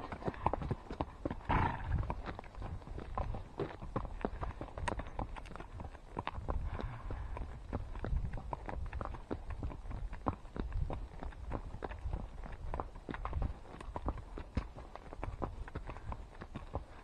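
Horse hooves clip-clop steadily along Slaughter Creek Trail in Austin, Texas during a horseback trail ride, a continuous run of close, regular thuds with outdoor background and no talk.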